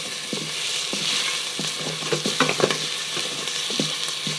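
Pressed garlic sizzling in rendered chicken fat, a continuous close crackle broken by repeated spatula taps and scrapes against the pan.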